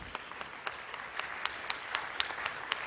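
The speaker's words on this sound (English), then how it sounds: "And a big applause for the winner," Audience applause for the winner at a school competition's closing ceremony in Malaysia, a steady patter of many hands with sharper individual claps popping through, moderately loud in a hall.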